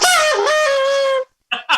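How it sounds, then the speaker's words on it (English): A rooster crows once, a loud close drawn-out call with a rising start, followed after a short pause by two brief clucks. "Sounds like the rooster's back."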